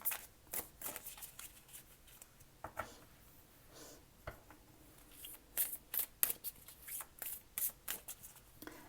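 Tarot cards being shuffled and drawn by hand, giving a series of quick crisp riffling and flicking bursts with soft card slaps between them, close and fairly quiet, with no talking.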